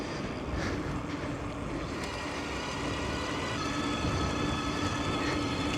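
Electric dirt bike with a CYC motor running at 72 volts on a trail, a steady rushing drone of motor and ride noise, fairly faint, with no talk.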